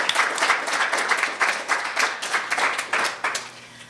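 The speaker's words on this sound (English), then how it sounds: "Let's give her another round of applause." Audience applause breaks out in a courtroom-steps gathering, a steady wash of many hands clapping with a rhythmic ripple, fairly close and full, fading slightly toward the end.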